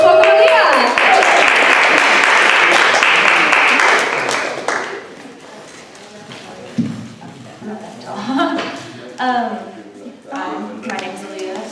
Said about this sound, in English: So if everybody can give her a warm round of applause, let's welcome Aaliyah.